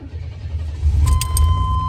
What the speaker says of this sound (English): I'm going to go ahead and start this car up for you guys.